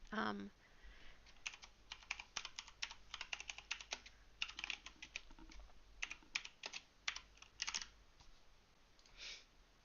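Rapid, uneven bursts of keystrokes on a computer keyboard during a digital drawing session, close and crisp, with short pauses between flurries and a brief voice at the start.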